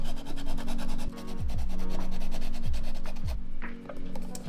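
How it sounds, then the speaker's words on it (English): Steady rapid rubbing of sandpaper on a hard plastic oil pressure gauge part for a Nissan 370Z, a rhythmic scratchy back-and-forth close by, with a few brief pauses. "so I'm gonna sand it down."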